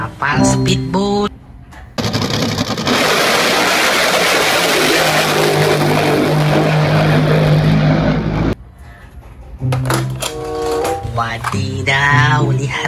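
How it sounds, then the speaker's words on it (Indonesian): A toy speedboat's motor whirs in a steady, loud mechanical drone for about six seconds, with a child-directed voice talking just before and after. "Kapal speedboat."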